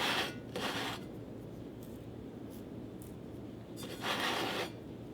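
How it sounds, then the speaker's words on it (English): A cloth or sponge wipes excess paint off a painted ceramic mug with soft rubbing strokes, two brief bursts at the start and one near the end, with quieter scraping in between. "Wipe off some of the excess."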